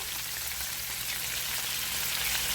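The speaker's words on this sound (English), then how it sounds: "When you put the onion and garlic and it starts to fry and you throw your frozen items in" Frozen Gardein chickenless strips frying with onions and garlic, a dense, continuous hissing sizzle, close and steady with no pauses.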